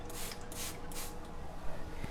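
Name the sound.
spraying water on a wet cement paint wall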